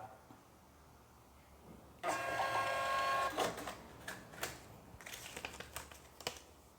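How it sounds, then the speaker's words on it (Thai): A POS receipt printer at a shop checkout whirs out a receipt in a loud burst of about a second, followed by scattered clicks and clacks in a quiet room, close by. "ใส่จำนวนเงินที่ลูกค้า ให้มานะครับ 200 บาท พิมพ์ใบเสร็จนะครับ"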